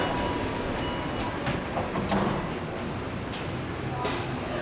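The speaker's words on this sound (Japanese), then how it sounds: "ポイントを渡り、終点、" A Taipei Metro Xinbeitou branch line train rolls along the track with a steady rumble, wheels clicking over points and faint squeals as it slows arriving at the Xinbeitou terminal station.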